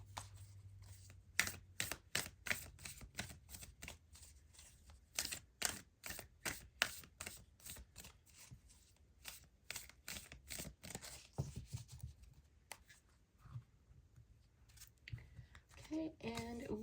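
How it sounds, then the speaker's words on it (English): Cards drawn from a Star Code Astro card deck make a quick series of crisp, close snaps and clicks, slowing into scattered softer rustles near the end. "Let's get you a couple cards from the Star Code Astro cards."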